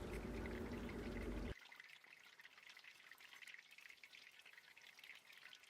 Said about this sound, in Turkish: Evet kızartma işlemine devam edelim